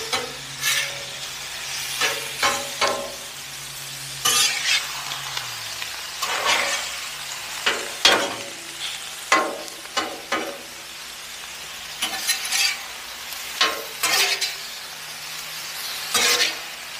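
Chicken fried rice on a Blackstone griddle, a hot flat-top hibachi, with intermittent spatula scrapes and tosses over a low sizzle, strokes arriving in irregular clusters.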